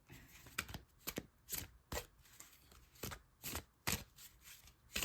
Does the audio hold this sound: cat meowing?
no